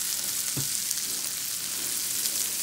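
Onions softening in leftover bacon grease in a pan, a steady faint sizzle running alone throughout with one brief clink near the start.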